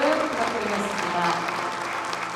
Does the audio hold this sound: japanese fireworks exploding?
no